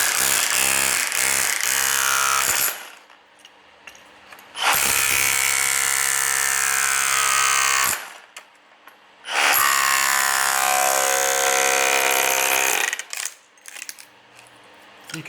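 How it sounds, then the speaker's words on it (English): A chisel driven under a broken tile to pry it up, loud harsh scraping and grinding bursts in three long stretches, with short sharp knocks at the start and quiet gaps between. "get the chisel straight underneath and slowly go through that until it starts separating and pop it"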